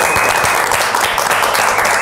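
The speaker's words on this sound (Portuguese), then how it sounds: "Uma salva de palmas, Lopes" Steady, dense applause from a television studio audience honoring Lopes, loud and continuous throughout with no talk over it.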